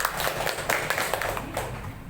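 A classroom full of people clapping steadily, a dense patter of hand claps continuing throughout without talk.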